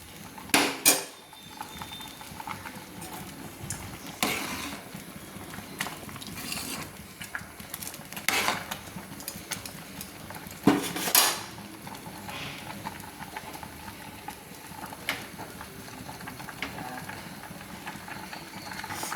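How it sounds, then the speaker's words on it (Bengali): Badshabhog rice payesh made with milk stirred in a pot, scattered scraping clinks of a spoon against metal with a few louder knocks, close and irregular over a quiet simmering background, no voices. "এইভাবে পায়েসটা নাড়তে হবে, না হলে নিচে বসে যাবে, চুইয়ে যাবে।"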